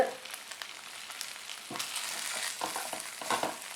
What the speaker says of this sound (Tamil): ஸோ சவுண்டு சிசில் சவுண்டு வருது